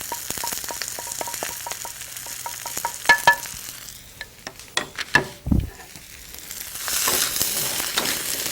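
Zucchinis tossed with coriander powder fry in a pan, with clinking stirring strokes over a steady sizzle and a few louder scrapes and knocks.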